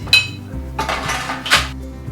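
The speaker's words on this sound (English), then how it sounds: "Greased cookie sheet." A greased metal cookie sheet is handled in a home kitchen for baking cranberry orange scones, making a few clanking metallic knocks and scrapes up close, with no talking.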